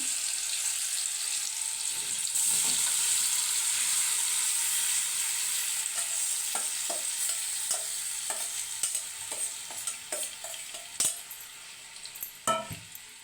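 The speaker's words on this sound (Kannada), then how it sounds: "ಇವಾಗ ಪನ್ನೀರ್ ಹಾಕೋಣ ಫ್ರೆಂಡ್ಸ್. ತುಪ್ಪದಾಗ ಫ್ರೈ ಮಾಡ್ಕೋಬೇಕು ಪನ್ನೀರನ್ನ." Paneer frying in hot ghee, a bright, steady sizzle close by, broken more and more by light clinks and scrapes of a utensil against the pan toward the end.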